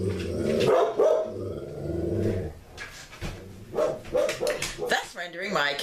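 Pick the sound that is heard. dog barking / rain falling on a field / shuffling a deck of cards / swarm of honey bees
dog barking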